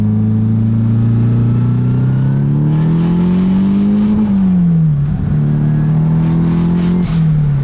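Nissan Cefiro drift car with a small turbo, its engine loud and close as it revs and pulls steadily through gears, pitch rising and dipping with throttle changes.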